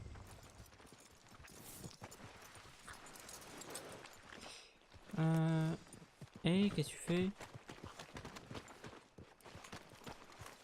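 In Red Dead Redemption 2, hooves clip-clop steadily at a walking pace, with a horse's whinny and snort rising midway and brief talking over the top.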